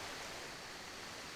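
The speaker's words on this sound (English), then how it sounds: "You get the waterfall." Waterfall in Ark: Survival Ascended, a faint, continuous broadband rush of falling water with no break and no voices.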